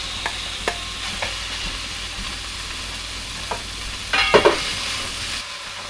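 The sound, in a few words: marinated pork shoulder searing in heated pan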